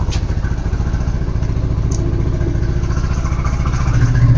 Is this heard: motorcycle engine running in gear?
yes